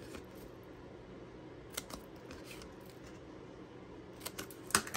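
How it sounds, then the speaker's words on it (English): Scissors snip the score lines of a paper treat box, giving a few quiet, sparse cuts against a soft background, with one sharper snip near the end and no voices. "now I'm gonna take my scissors and snip those score lines there in the middle"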